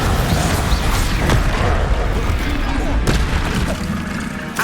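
Confringo, an explosive fire spell cast in Hogwarts Legacy combat, bursts with heavy booms and rumbling impacts, loud and close, sharp hits near the start and again around the middle amid general battle noise.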